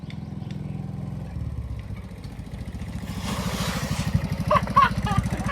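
A motorbike engine runs nearby with a rapid, rhythmic putter that grows louder toward the end, while people talk over it.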